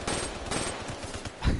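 Rapid gunfire from a video game, a dense burst of fast repeated shots lasting under two seconds, loud and close, heard alone.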